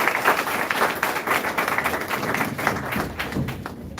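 An audience at a college gathering in Lucknow claps to welcome guests to the dais, a dense and steady wash of many hands that stays loud and close for the full four seconds.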